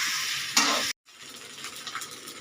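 Leftover rice mixture frying in a pan, a steady bright sizzle with a brief stir, cut by a moment of silence before the frying resumes a little softer.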